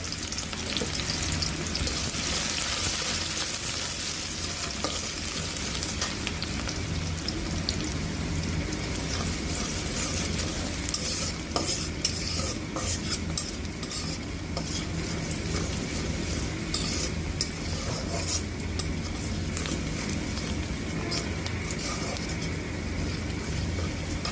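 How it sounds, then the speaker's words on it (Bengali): Malabar spinach greens fry in a pan while being stirred, a steady close sizzle with scraping and clinking from the spoon running throughout, no one speaking. "এখন আমরা শাকগুলো রান্না করব।"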